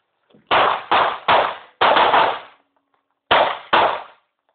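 Handgun shots on an outdoor shooting range, fired in quick pairs: six loud, sharp cracks in close succession with short ringing tails, a pause, then two more, with no talking between them.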